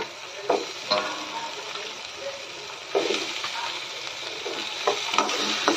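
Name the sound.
eggplant frying in oil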